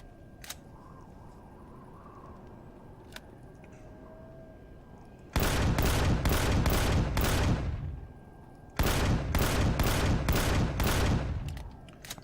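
Video game gunfire in Empyrion Galactic Survival as turrets on a fortress are shot down: two loud sustained bursts of rapid fire, the first about three seconds long, the second slightly longer, over a low ambient hum with a few faint clicks before.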